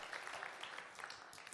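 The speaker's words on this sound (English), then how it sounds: "Give a round of applause here to our servant." Audience applause at a family conference session, a steady patter of clapping spread across the room for the whole moment, fairly faint and even, with one sharper clap near the end.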